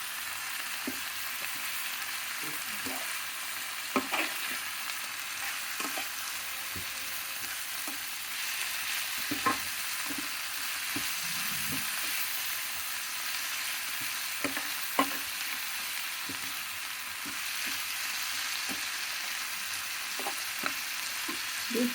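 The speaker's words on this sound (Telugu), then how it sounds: "2 నిమిషాలు వేగనివ్వాలండి ఆకుకూర వేసి." Amaranth leaves (thotakura) fry in a pan, a steady close sizzle broken by scattered clicks and scrapes of stirring, with no talking.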